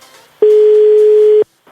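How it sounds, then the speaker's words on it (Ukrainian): A single long steady telephone ringback tone on a radio prank call, one loud sustained beep of about a second, with faint background sound before and after. "Пішли гудки."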